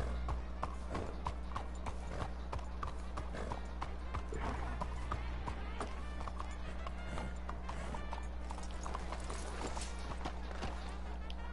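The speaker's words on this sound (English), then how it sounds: "I'm trying to hitch my horse." Hooves of a horse clop repeatedly in the Red Dead Online video game, a continuous walking rhythm beneath a steady background hum, with voices talking over it.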